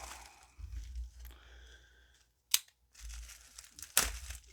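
GKD Bubble box being cut open: close crinkling and tearing of packaging with a few sharp crunching snaps, quiet and intermittent.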